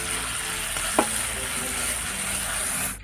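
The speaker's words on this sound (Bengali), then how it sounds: "সুন্দর করে তেল উঠে ফুটছে, কষানি ফুটছে।" Spice paste with ginger paste, salt and a little water sizzles and bubbles steadily in oil while being cooked down for a fish curry, a dense, even frying hiss with one brief clink near the start and no talking.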